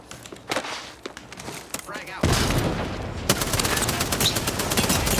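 In a video game, a grenade explosion bursts suddenly after a stretch of scattered footsteps and shots, followed by a dense, loud fusillade of rapid gunfire that continues to the end.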